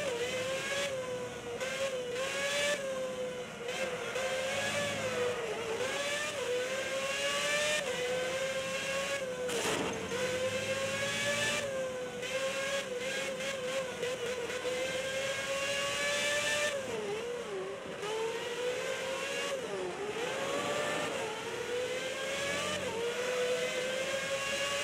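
A Formula 1 car's engine howls through a flying lap at the Turkish Grand Prix in the 2006 racing game. The pitch rises and falls sharply through gear changes and braking, with brief tyre squeal, all loud and continuous with no voices.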